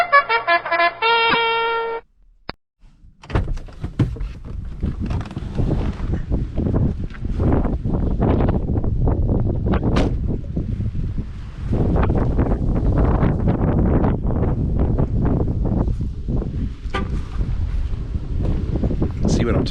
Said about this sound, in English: It is really, really windy out.